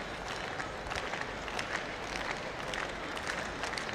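A crowd at a track and field championship claps rhythmically from a distance, a dense, even patter of hands that carries on steadily, with faint stadium murmur beneath.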